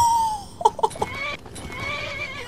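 Shadowmere, the black horse in the Skyrim video game, whinnies at night in a short burst of several quick rising and falling pulses, fairly close and clear over low game ambience.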